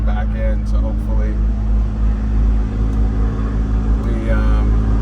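A McLaren 600LT engine drones low and steady while driving, heard from inside the cabin with the windows cracked slightly, with someone talking over the rumble.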